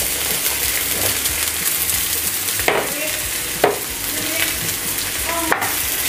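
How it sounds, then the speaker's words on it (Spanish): Mushrooms and pearl onions sauté in butter for a Burgundy-style slow-cooked beef dish, giving a loud, continuous sizzle broken by several clunks and scrapes of a spoon stirring the pan. "Removemos, mezclamos todo bien, que coja el saborcito de la cebolla y de la mantequilla, y dejamos que se cocine el champiñón"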